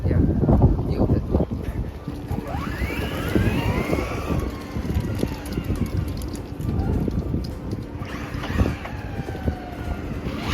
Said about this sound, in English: We got the wind blowing at 30 miles an hour, 25 miles an hour.